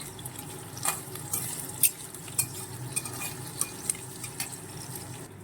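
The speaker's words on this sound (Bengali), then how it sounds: "এখন ঘিয়ের মধ্যে আদা দেওয়া হলো, আদাটা একটু কষিয়ে নেবে ঘিতে" Chopped ginger sautés in hot ghee in a pan in a home kitchen, a soft, faint, steady sizzle broken by a few sharp clinks of a utensil against the pan.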